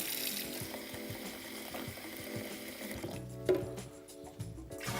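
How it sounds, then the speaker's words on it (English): Cold water runs into a BrewKeg brewing vessel, a steady hissing flow with faint mechanical hum, quiet and continuous, shifting in tone partway through as the fill changes. "So that's just cold water you put in there?"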